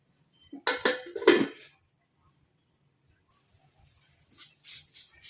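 Curry leaves frying in an iron kadai as a spoon stirs them, two sharp metallic scrapes and clinks close by, then quiet, then a few lighter stirring scrapes.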